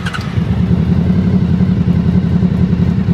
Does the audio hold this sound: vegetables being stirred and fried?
no